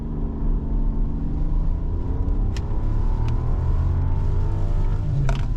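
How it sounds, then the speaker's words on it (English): A 2025 Rolls-Royce Cullinan Series 2 launches from a standstill, its engine a loud sustained low rumble that climbs steadily in pitch while holding one gear, heard close from inside the cabin with road roar underneath. "we're gonna do a launch in the Cullinan"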